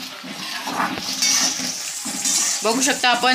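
Green eggplants are swished and rinsed in water, producing splashing and sloshing with light clatter against a vessel, close up, while someone talks over the sound.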